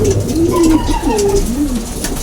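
Pigeons coo in low, rolling, repeated calls close by, overlapping softly against a steady background hum.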